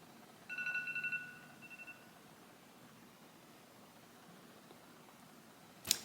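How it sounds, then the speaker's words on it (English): A phone rings indoors with a short electronic warbling tone near the start, faint against a quiet room hiss, followed by a sharp click near the end. "phone's going off."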